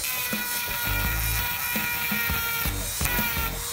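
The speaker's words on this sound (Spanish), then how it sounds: "Vamos a agregarle ahora el mini torno, que es tan útil." Mini rotary tool powered through a 12V inverter, whining at a steady high pitch close by, with a few brief changes in load and tone along the way and no talking.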